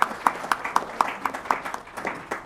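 An audience at a lecture claps to welcome the speaker, sparse, fairly faint claps repeating about every half second, steady and close together.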